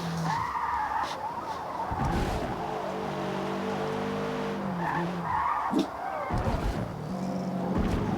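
A GR86 Cup race car laps Homestead, its engine heard from onboard as it revs through the gears with repeated rising and falling pitch, punctuated by gear changes and tire noise, fairly loud and continuous.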